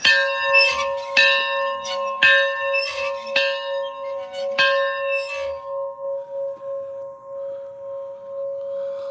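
A church bell tolls close by in a measured rhythm, about half a dozen bright ringing strikes whose long humming tones linger and decay into a sustained hum after the last stroke.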